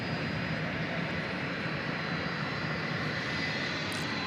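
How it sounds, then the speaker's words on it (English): UPS Boeing 757 jet at DFW Airport at night, a steady loud engine roar with a faint whine that holds without break, with no voices. "This looks like a 757, does it not?"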